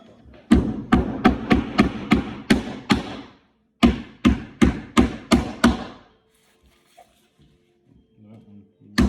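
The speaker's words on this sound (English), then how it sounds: "Go ahead and hammer those in first." Hammer blows drive nails into a wooden bird house in two quick bursts of sharp, evenly spaced knocks, close and loud, followed by quiet with faint shuffling.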